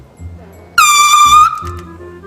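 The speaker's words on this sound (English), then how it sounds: "I have set up in the corner by the door and air horn angled" An air horn set up in the corner of a garage by the open door lets out a single loud, blaring blast of under a second, followed by a brief lower echo, with a faint background hum before and after.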